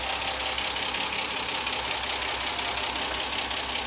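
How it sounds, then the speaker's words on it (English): A South African-market Ford Granada 3.0GL with a 3-litre V6 and automatic gearbox idles warm, giving a steady, close, rumbling engine drone with a faint even pulse throughout. "There's the 3 litre V6, South African market. It's getting nice and warm now."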